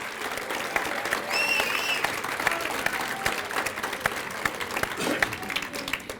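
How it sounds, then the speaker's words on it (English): An audience applauds at a volunteer appreciation breakfast, a dense, lively clapping wash with scattered sharp claps and a few faint voices and cheers mixed in. "So she deserves a round of applause."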